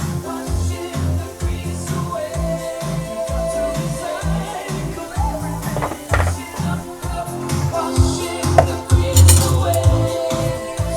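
Dishes and cutlery clink and clatter in water, with repeated scraping and knocking in an uneven rhythm, close and fairly loud.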